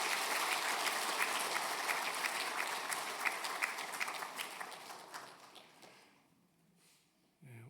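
A church congregation gives loud, sustained blessing applause for departing ministers, dense clapping filling the room for several seconds before fading out to near quiet.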